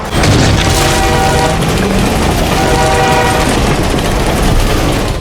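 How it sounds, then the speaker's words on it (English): A loud train rumbles close by with a blaring horn and heavy rolling noise throughout, no voices. "The hermit reappeared, causing Lucas to fall from the carriage and be hit by an oncoming train"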